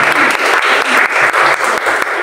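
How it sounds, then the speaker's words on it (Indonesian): Steady applause from a church congregation in Jakarta, dense continuous clapping that stays loud and even throughout without any voices on top. "beri tepuk tangan yang berdoa"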